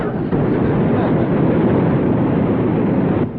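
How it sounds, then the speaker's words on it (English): A vehicle engine roars steadily at high revs while its wheels spin in mud, a loud, continuous rumbling drone that cuts off sharply at the end. "Yeah, but the wheels must be spinning in the mud."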